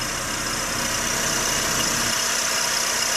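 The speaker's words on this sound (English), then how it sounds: "seen this main engine mount make this type of a rattling noise on these cars" A Chrysler PT Cruiser engine idles steadily and close up, with a constant metallic rattle from a worn main engine mount running through the hum, no revving and no voices.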